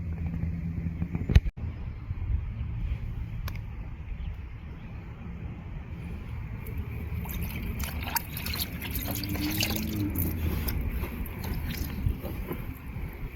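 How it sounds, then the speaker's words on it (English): Water runs and splashes while a license plate mounting kit for a Lucid Air is washed, a steady low wash with trickles and drips, a sharp knock near the start and a brighter spray building later. "Wash it real quick, wipe down."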